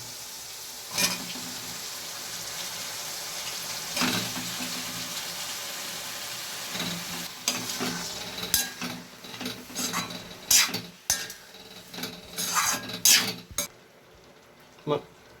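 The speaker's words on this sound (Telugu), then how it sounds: "ఇప్పుడైతే కడిగిన వంకాయల ముక్కలను అయితే వేసుకుందాం" Washed brinjal (eggplant) pieces tipped into a pan of curry with cooked onion, green chilli and tomato, giving soft sizzling and scattered sharp clatters and knocks as they drop and are stirred.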